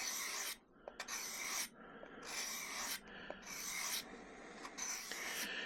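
Rhythmic rasping strokes of an Ozark Trail knife drawn across grit sharpening plates, about five long scraping passes with short pauses and small clicks between, close and fairly loud, no talking.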